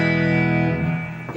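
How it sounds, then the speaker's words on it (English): A Blackstar ID guitar amp on its Clean Bright voicing with a splash of spring reverb: one sustained clean chord rings out alone and slowly decays over about a second and a half. "If we just set like a splash of spring reverb on there"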